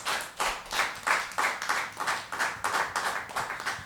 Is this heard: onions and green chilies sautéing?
no